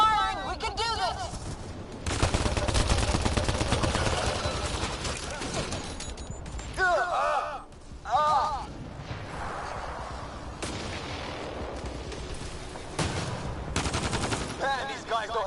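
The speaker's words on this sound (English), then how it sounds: "Just keep firing!" Sustained gunfire in a Mass Effect Andromeda battle, with heavy automatic fire and sharp shots, dense and loud for long stretches. It drops briefly, then resumes, while voices call out over the fighting.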